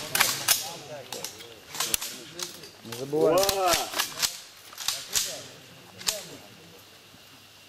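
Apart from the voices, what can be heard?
ceremonial rifle salute volley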